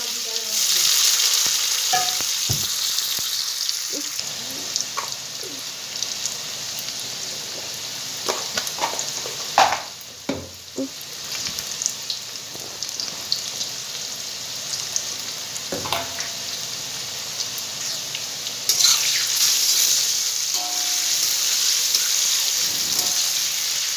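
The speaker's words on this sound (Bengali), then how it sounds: "আলুটা আমি লাল লাল করে অল্প ভেজে নেব।" Potato pieces frying and being stirred in oil in a kadai, a dense, continuous sizzle with scraping stirs throughout, close and fairly loud.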